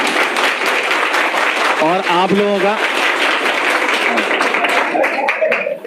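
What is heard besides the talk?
students applauding loudly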